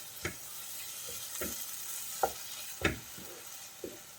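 Karimeen fish masala with chili powder sautéed in a pan, a faint low sizzle broken by a handful of soft, spaced spatula scrapes and taps, quiet and close with no speech.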